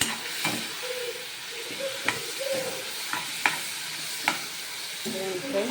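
Tomatoes frying in a pan for a spring onion curry, a moderate sizzle with crisp spatula taps and scrapes recurring every second or so.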